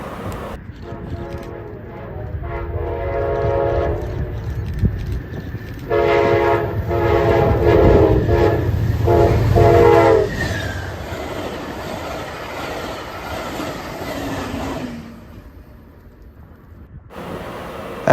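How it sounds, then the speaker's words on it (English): Amtrak train 336 with locomotive 164 leading passes at Lake Cook Road in northern Chicagoland, sounding a long, loud horn show in several blasts over a rumbling roll of wheels and cars that fades as it goes by. "Amtrak 336 with Amtrak 164 leading with one of the best horn shows I've ever heard"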